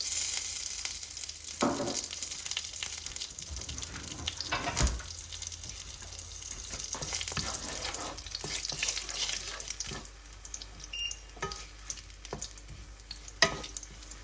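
Whole cinnamon, cardamom and cloves sizzle in hot oil in a pan for a lamb shatkora dish, a steady close frying hiss broken by a few louder crackles and brief clatters.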